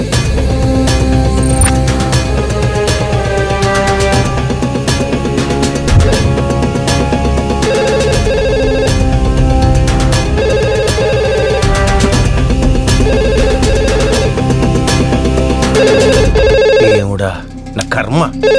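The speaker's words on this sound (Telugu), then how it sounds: "అవును, ఇక్కడే ఇక్కడ పక్కన రింగ్ అవుతుంది." A phone ringtone plays loudly and close by as a repeating melodic tune, continuing steadily for most of the stretch before cutting off near the end.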